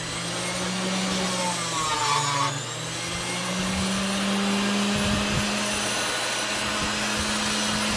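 Angle grinder cutting wire off heavy scrap brass, a steady loud droning whine that dips briefly near the middle and carries on throughout with no talk.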